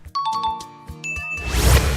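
Bright bell-like ding of a subscribe notification, several tinkling tones ringing out in quick succession before a swelling whoosh takes over, alone with no voice.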